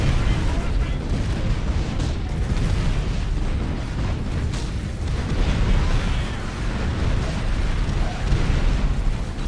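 Rocket blasts fired from a defensive tower in a strategy video game, heavy rumbling booms layered over continuous battle noise for several seconds.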